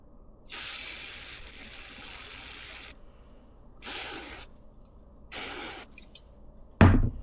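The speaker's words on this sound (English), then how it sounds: "I use this Tusk contact cleaner." Tusk contact cleaner sprays onto a Mikuni TMX carburetor in three close hissing bursts, one long and two short, followed by a sharp knock.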